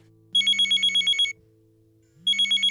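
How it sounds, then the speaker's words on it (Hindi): A telephone ringtone trills in two bursts, about a second long each with a pause between, fairly loud and clear with no talking. "अच्छा यहाँ फोन बज रहा है।"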